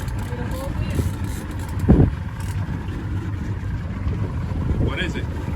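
A small fishing boat's outboard motor drones steadily and close, a constant low rumble with water wash, while people talk over it.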